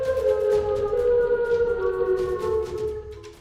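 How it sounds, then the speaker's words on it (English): A wailing warning siren sounds through a small town, a sustained tonal howl with a harmonic stack, slowly rising and falling and fading slightly toward the end. "A warning siren rips through the small town."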